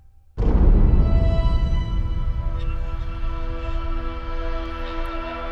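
A chamber ensemble, with violins and piano playing together, enters with a sudden swell and then sustains a rich, layered chord texture. It is fairly soft and plays without any talking.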